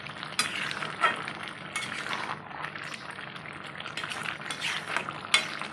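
A spoon stirs jackfruit and minced meat curry in a pan on a gas stove, with scraping strokes, soft sizzling underneath and a few sharp metallic clinks against the pan.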